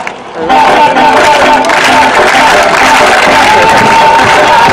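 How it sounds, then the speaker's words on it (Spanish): Beach crowd at Mar del Plata clapping along to music, dense continuous applause with shouts and cheering, loud and close. "todo el mundo hace palmas."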